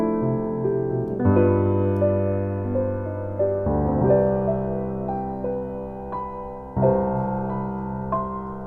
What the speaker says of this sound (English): that altered dominant chord adds this very rich dissonance